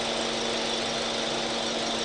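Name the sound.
Kia Sonet engine idling with misfire vibration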